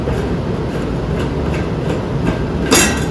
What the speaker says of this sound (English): the furnace is on, going through the 90-second test phase for the blower